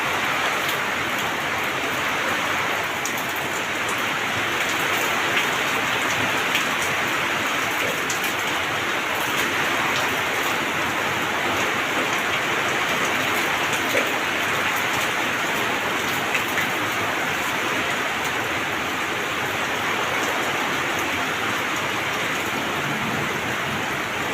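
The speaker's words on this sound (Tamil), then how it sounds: "எல்லா பக்கமே மழை பெய்யுதுங்க" Heavy rain pours steadily and densely for the whole stretch, a loud continuous hiss of drops on surfaces in Seyur near Avinashi, Tiruppur, with no voices.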